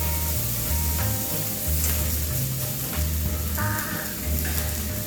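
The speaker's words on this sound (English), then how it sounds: "We'll get those also just frying, just give them a nice golden color on the side there." Mushrooms fry in butter in a pan, giving a steady, close, continuous sizzle throughout, with a low background hum underneath.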